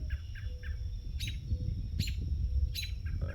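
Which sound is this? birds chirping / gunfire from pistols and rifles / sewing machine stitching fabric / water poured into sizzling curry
birds chirping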